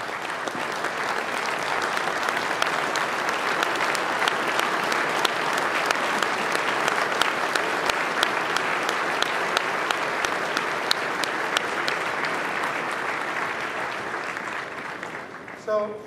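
A large keynote audience at an HP corporate event gives a long, loud round of applause, dense steady clapping that holds for about fifteen seconds before tapering off at the end.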